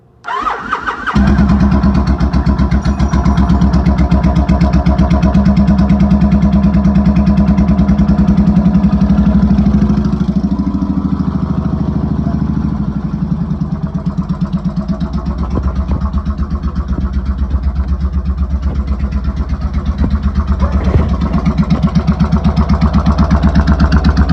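Motorcycle with its choke fully out cranks briefly and fires up, then settles into a loud, close, steady idle with a rapid even pulse that continues to the end, no talking.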